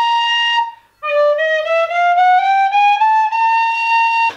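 A clear, loud tin whistle plays a sustained note, pauses briefly, then slides slowly upward in pitch across several seconds using half-holed fingering before stopping; no talking.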